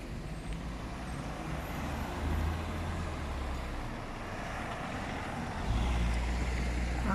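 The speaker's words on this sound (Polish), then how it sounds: "akurat w tej chwili przyjechało kilka samochodów w jedną stronę no i niestety kolejka samochodów w drugą stronę" Steady traffic on a busy street in Karłowice, Wrocław, with several cars passing in both directions, heard as a continuous low rumble that swells as heavier vehicles go by.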